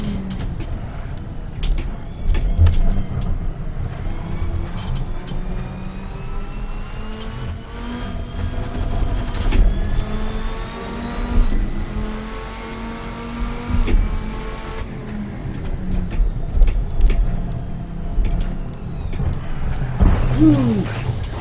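A Viper's engine drives a racing lap in Assetto Corsa, a loud steady drone whose pitch climbs through the gears, drops at each shift and climbs again, with brief clicks and bumps along the way.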